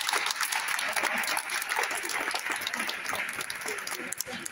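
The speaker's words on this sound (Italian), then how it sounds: "l'applauso lo farei io a voi." An audience at a film festival event gives sustained applause, a dense and fairly loud wash of clapping, with a voice faintly audible beneath it.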